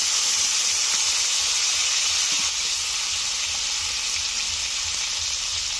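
Bay leaf, whole cumin and chopped tomato sizzle in hot oil for a Bengali katla fish curry with elephant-foot yam, a steady close, bright frying hiss that eases slightly midway and carries on with no voices.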